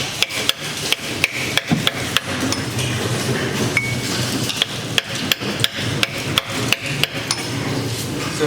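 Sharp metallic brass hammer strikes on a seal driver ring out in a steady series of roughly two dozen blows, close and loud, with a faint workshop rasp between hits, installing a BMW pinion seal.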